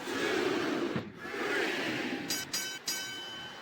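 Arena crowd noise in the SmackDown vs Raw 2007 wrestling game, Shawn Michaels vs Triple H Iron Man match: a continuous roaring crowd with swells, broken by a few brief sharp bursts.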